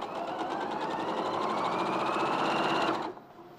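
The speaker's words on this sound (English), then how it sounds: "You just carry on sewing." Sewing machine stitching a quilt seam while chain piecing, a fast continuous mechanical chatter close by for about three seconds before stopping abruptly.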